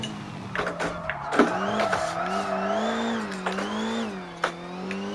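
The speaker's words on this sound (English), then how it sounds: "And I'll do a wide handbrake turn." Rally car in WRC Generations sliding through a wide handbrake turn on gravel or tarmac, engine droning and shifting pitch with tire scrub and brief clunks, continuous and close.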